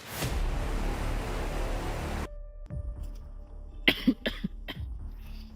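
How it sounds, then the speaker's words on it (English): After a burst of broadband noise cuts out, a person coughs several times in quick succession, close and fairly loud in a quiet room. "A single cough, a breath, a silence exchange."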